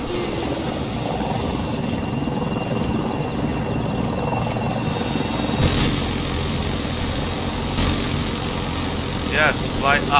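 Helicopter flying in the video game Battlefield 2042, a steady droning rotor and engine rumble running the whole way through, with brief bursts of other game noise near the end.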